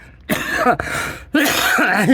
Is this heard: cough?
yes